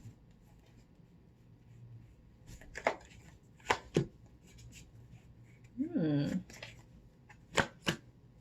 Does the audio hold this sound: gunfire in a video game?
no